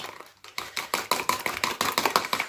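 Eggs whisked briskly in a bowl until frothy for an onion ring omelette, a steady run of quick rhythmic clinking strokes about five per second, close and fairly loud with no talk.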